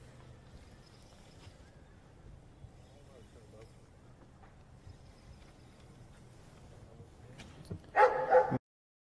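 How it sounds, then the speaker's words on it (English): After a stretch of low murmuring background noise, a dog lets out a couple of quick, loud barks near the end. "He's gonna get scared of that dog."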